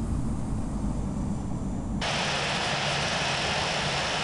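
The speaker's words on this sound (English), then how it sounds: "Speedbird 103 flight of 2 is taking off runway 30," A Boeing 787-9 jet rolling for takeoff in the Infinite Flight simulator, a steady loud engine roar that suddenly brightens into a fuller, harsher rush halfway through as thrust comes up.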